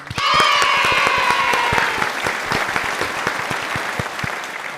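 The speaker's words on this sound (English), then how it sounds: "everyone round of applause for Yash" Lively clapping from a small audience at a podcast-style talk show, with distinct individual claps near the mic and a brief whoop at the start, tapering slightly over several seconds.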